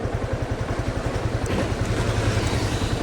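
A motorcycle runs steadily close by as a rider prepares to set off on a ride, its engine giving a constant pulsing rumble throughout, with wind buffeting and no talk.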